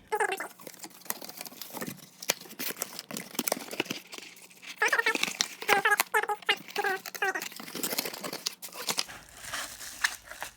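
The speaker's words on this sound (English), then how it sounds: "a Priority Mail flat rate small size box. So let me go ahead and put it together." A small Priority Mail flat rate cardboard box being folded and assembled, with close crinkling, scraping and tapping of cardboard in irregular bursts throughout, moderately loud and with no talking.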